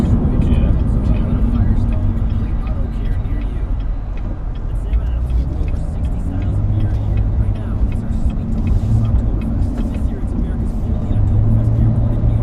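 A 2015 Corvette Stingray convertible with about 8,000 miles drives along, a steady low engine and road rumble with wind, heard from inside the open car while someone talks over it.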